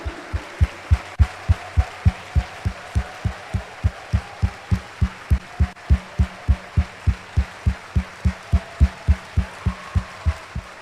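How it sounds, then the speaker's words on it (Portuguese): A church congregation at an evening Sunday Mass claps in unison, a steady rhythmic beat of roughly three claps a second, loud and even, with faint voices beneath. "Dê uma salva de palmas e um grito para Jesus."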